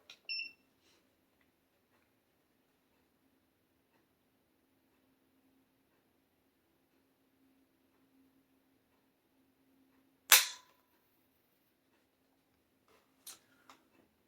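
The trigger of a Henry Big Boy .357 Magnum lever-action rifle breaks with one sharp, close mechanical click in near silence, followed later by a couple of fainter small clicks.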